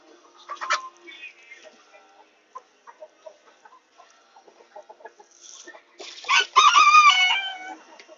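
Chickens in a coop give scattered, soft clucks and rustles for several seconds. Then a rooster crows loudly and close by near the end, rising over the quieter hens.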